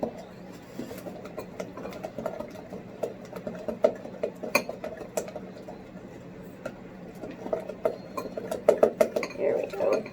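An egg being stirred into fudge brownie batter in a bowl, with steady scraping and clinking of utensil against the dish, close and continuous, while a person talks over it.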